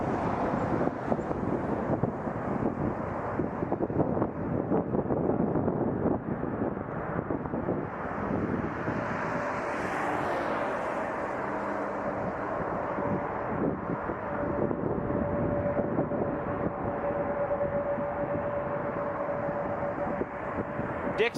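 An Air Transat Airbus A321neo airliner bound for Paris passes at Toronto Pearson airport, giving a steady broadband roar with wind buffeting that swells and fades slightly over about twenty seconds, with no talking.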